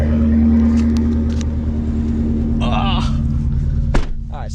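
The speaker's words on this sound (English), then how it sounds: "This is a hot start, so just take a gander at this." Supercharged, built and sleeved Ford Mustang GT350 V8 on a hot start, giving a loud steady low engine rumble and idle with a brief sharp blip near the end, voices briefly audible over it.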